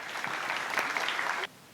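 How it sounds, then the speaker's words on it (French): A hall crowd at a mosque end-of-year celebration claps steadily for schoolboys from an Islamic education class, then the applause stops abruptly, leaving quiet room tone. "Merci de les applaudir."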